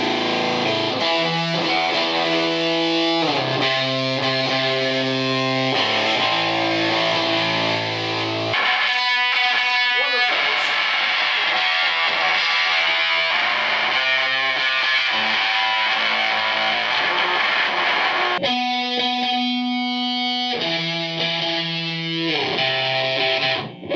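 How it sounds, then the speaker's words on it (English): An electric guitar with a subtle distortion effect plays sustained chords and notes in a recording session, continuous and loud throughout with shifting harmonies and short pauses between phrases. "With just this subtle distortion on."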